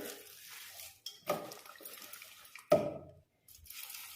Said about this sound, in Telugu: ఇప్పుడు ఇందులో కొంచెం వాటర్ వేసుకోవాలి.